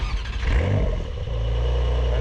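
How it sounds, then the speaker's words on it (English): A Porsche 911 GTS with sports exhaust cranks and fires up, the starter whirring into a rising rev that settles into a steady, loud, close idle rumble. "And it fires up. The 911 exhaust note is nice, and of course this does have the sports exhaust as well."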